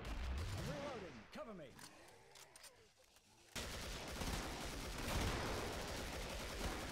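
Rapid gunfire from the video game Killing Floor, bursts of shots over game effects, growing into dense continuous firing in the second half, with a voice talking faintly underneath.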